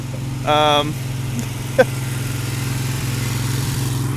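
A lawn mower engine drones steadily and evenly nearby throughout, with a brief voice-like tone early on and a single sharp knock partway through.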